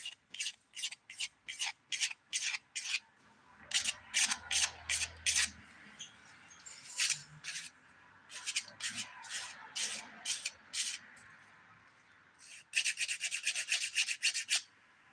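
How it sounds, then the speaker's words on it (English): A 180 grit nail file rubbed across fingernails in quick bursts of short, dry rasping strokes, close and fairly quiet, with brief pauses between runs and a rapid flurry near the end. "Using the 180 grit side of this file right now, just to smooth out."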